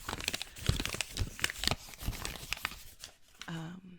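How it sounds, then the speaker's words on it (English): Crisp paper crinkling and rustling close up in quick irregular bursts, ending with a brief low hum. "But for example, like paper noises"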